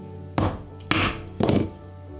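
Three firm hammer blows land on a leather stitching chisel placed at the top edge above a wallet pocket, each a sharp thunk with a short ring, evenly spaced about half a second apart, close and with no talking.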